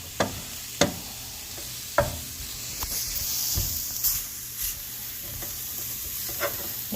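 Chopped meat sizzles steadily as it browns in a frying pan in a school cooking class, with a sharp scrape or clack of a stirring utensil every few seconds.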